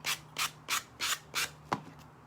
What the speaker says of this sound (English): I'm just sanding the edges off so it looks more like seamless.